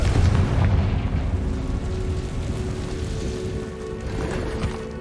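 A Confringo blasting spell goes off in the Hogwarts Legacy game as a dense, rumbling boom, loud from the start and fading into a sustained low roar with crackling debris over about five seconds.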